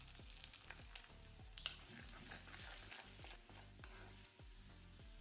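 Garlic and ginger frying in oil in a kadai with mustard seeds and urad dal, a steady close sizzle and crackle punctuated by regular metallic stirring taps throughout, no voices.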